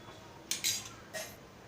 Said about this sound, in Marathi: आता आपण मिश्रण एकजीव करून घेऊया